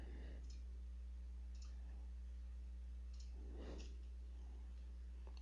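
Computer mouse clicks while working in CAD software on a stiffener, a few sparse, faint, close taps spread over a steady low electrical hum.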